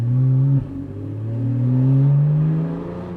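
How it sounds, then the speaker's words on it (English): A Porsche 911 Carrera S 991.1, not yet fully warmed, revs hard while driving through a village in sport mode, its engine note dropping briefly at a gear change, then climbing again in a loud, rising drone. "Once I warm up the engine and everything is like nice and warm, you will see that it's a lot more gruntier and Yeah, torquier."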